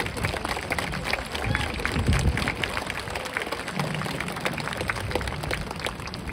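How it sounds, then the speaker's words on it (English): A crowd applauds for volunteers rising at a USS Midway ceremony marking the 50th anniversary of Operation Frequent Wind: a steady, dense wash of clapping that holds at an even level throughout, with a low murmur beneath. "Please give them a big round of applause."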